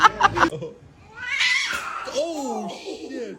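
A cat lets out a drawn-out, wavering caterwauling meow, close and fairly loud, following a burst of noisy commotion and sliding through rising and falling pitches.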